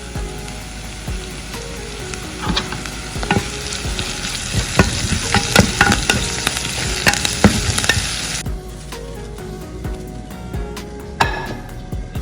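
Mustard seeds crackle and splutter loudly in hot oil as the tempering for a jackfruit-seed, raw mango, prawn and drumstick curry, with dense sharp pops and sizzling that ease off near the end.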